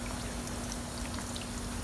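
Water is poured into a stone mix, a steady close pour and trickle with faint droplet detail over a continuous hiss, brief and without talk.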